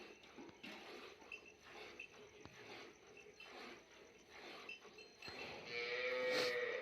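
Cholistani Friesian cross cows mooing on a farm, several low drawn-out calls at moderate distance, the loudest and longest near the end.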